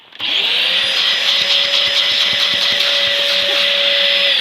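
A Dyson DC04 limited edition upright vacuum cleaner whirs loudly and steadily up close, its motor tone holding even after a quick start, with faint rhythmic ticking underneath.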